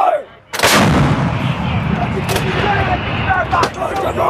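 An M777 towed 155 mm howitzer fires once during a live-fire drill, a loud close blast that rolls out into a long, heavy rumble. Two sharper reports sound faintly in the background as the rumble fades.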